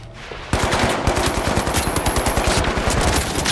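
Rapid automatic gunfire rattles in the game The Finals, starting abruptly and continuing as a dense, loud, close stream of shots with no talk.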